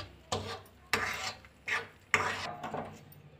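A spoon stirs a rice flour mixture in a pot of boiling water on the stove, making four soft, rhythmic scraping strokes, quiet and close.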